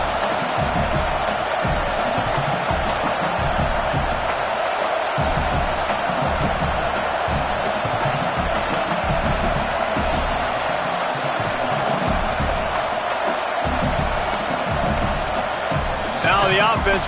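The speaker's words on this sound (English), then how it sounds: "This crowd trying to do its part to get inside the kicker's head" A college football stadium crowd roars steadily before a field goal attempt, a dense sustained wall of cheering and shouting with talk over it.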